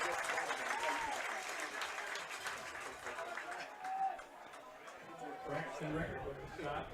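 Home crowd at a high school football game between Appleton West and D.C. Everest, cheering and applauding steadily across the whole stretch, a broad continuous roar with scattered shouts and a brief swell near the middle.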